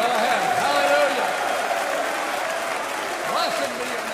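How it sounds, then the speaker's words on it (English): A worship congregation applauds steadily, a sustained wash of clapping from a crowd with voices rising over it. "Now let's applaud his glory again."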